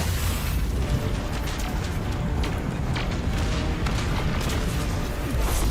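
Missile strikes during a Red Legion assault in Destiny 2, a dense, unbroken roar of rumbling explosions and bursts that stays loud and close throughout, with no clear gaps between impacts.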